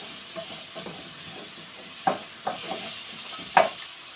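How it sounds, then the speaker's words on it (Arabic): Carrots and potatoes stirred in a pot while sautéing for Turkish-style lentil soup, with a low background sizzle and a few sharp utensil scrapes and knocks against the pot. "وهضيف الجزر، نديهم برضو تشويحة كده كله مع بعضه."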